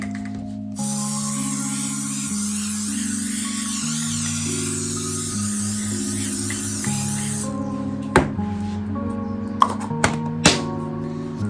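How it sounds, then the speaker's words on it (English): Baking spray hisses from a can onto a pan in one long, steady burst over quiet background music, followed by a few light taps and clatters of the pan. "I'm going to add some baking spray to the pan so that the dough doesn't stick."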